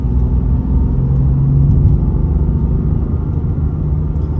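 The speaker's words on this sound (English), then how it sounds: "Once that boost kicks in, this car just flat out rips." A 2016 BMW F82 M4 on a test drive pulls hard under boost, its engine a loud, steady low rumble heard from inside the cabin with no voices.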